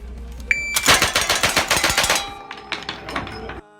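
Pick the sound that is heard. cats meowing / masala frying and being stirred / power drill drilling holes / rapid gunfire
rapid gunfire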